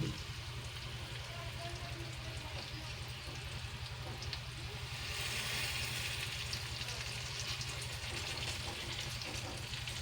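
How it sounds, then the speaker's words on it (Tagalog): Beaten eggs for a ham and hotdog omelette sizzle steadily in a hot pan, a close, dense frying crackle that runs the whole way through with a brief louder surge midway. "ilagay na natin tong ating binating itlog"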